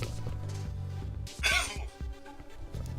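A man coughing and clearing his throat while streaming a fan-made game, one short burst near the middle with faint background sounds before and after, and no talk.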